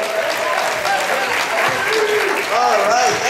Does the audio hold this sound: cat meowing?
no